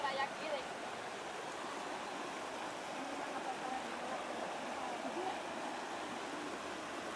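River water rushes and flows steadily as people get into the river, a constant broadband wash with faint voices and splashes underneath.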